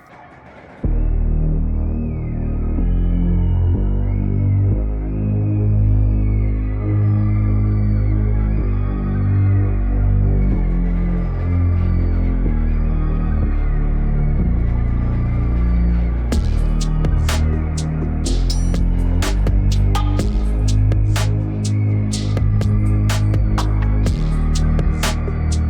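Dark, gritty hip-hop beat with a heavy, droning bass synth under layered melodic parts. Drums with sharp, bright hits come in during the second half, and it plays loud and continuous with no talking.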